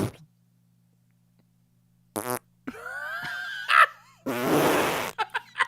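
A voice imitates wet fart sounds, with a short buzzy burst, a pause, then several sputtering, wavering blasts of varying pitch and a long rasping one, close and fairly loud, ending in quick smaller pops.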